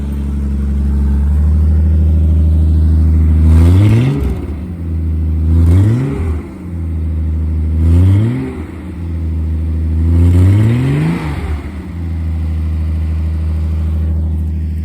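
A Japanese sports car engine idles, then revs hard four times, each rev climbing and falling back to a steady idle, loud and close.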